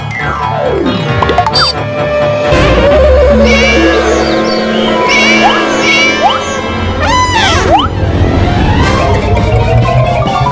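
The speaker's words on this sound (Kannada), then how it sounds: "ಆ ಬೆಕ್ಕುಗಳು ಕಚ್ಚಕ್ ಶುರು ಮಾಡಿದ್ರೆ ನಲ್ಲಿ ಮೂಳೆ ಒಂದು ಉಳಿಯಲ್ಲ" Cartoon cats in a Motu Patlu episode meow loudly and repeatedly amid a dense mix of music, boings and crowd-like cartoon effects.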